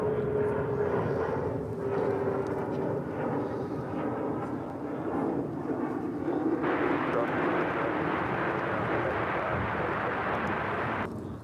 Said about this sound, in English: We got the UPS 767 heading over to 36 right for a departure to San Jose.